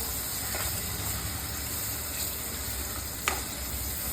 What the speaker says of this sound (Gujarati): ટમેટા સોતળાઈ ગયા છે થોડા.